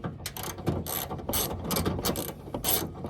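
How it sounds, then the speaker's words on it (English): A ratchet wrench tightening bolts and nuts on a wall, steady repeated clicking strokes in a quick rhythm, close and moderately loud with no talking. "tightening these bolts down, or these nuts."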